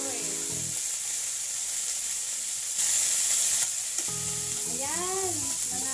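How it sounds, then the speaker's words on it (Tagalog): Garlic and onion sauté in oil, sizzling and hissing steadily while being stirred, with a brief louder burst of frying partway through and someone speaking over it. "Ibigisa ang ating bawang at sibuyas."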